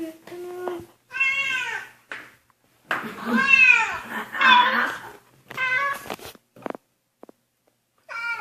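A pet cat meows several times in a row, a series of clear, close, drawn-out cries separated by short pauses, with a few soft clicks and rustles near the end.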